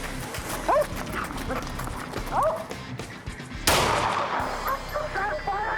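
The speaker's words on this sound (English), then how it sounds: "Shot fired!" One sudden loud gunshot rings out during a police call, preceded by a dog's barks amid hurried voices and movement, with the bang followed by a lingering noisy tail.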